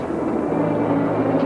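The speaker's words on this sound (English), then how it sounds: "A plane." A propeller airplane drones steadily overhead, a loud continuous engine hum with a low tonal throb that holds without a break.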